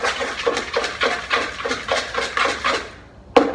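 Ingredients being mixed in a bowl, a quick series of rhythmic scraping and clinking strokes of a utensil against the bowl, close and fairly quiet, pausing briefly before one last knock.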